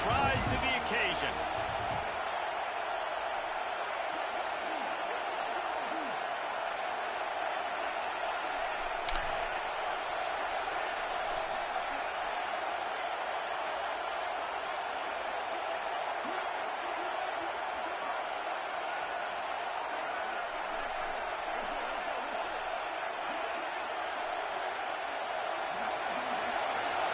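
Sustained, even roar of a stadium crowd cheering the defense on fourth down in a college football video game against Michigan, steady and loud from start to finish with a few faint thuds near the start.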